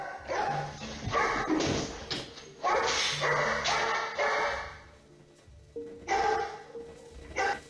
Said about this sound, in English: it just seems like the dog runs off barking